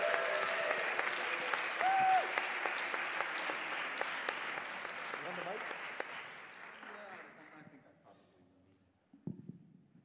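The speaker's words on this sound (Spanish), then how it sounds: "por favor, un fuerte aplauso" A concert audience applauds a jazz guitarist at a music residency, loud sustained clapping that gradually thins and fades out, with a brief voice and a few stray claps at the end.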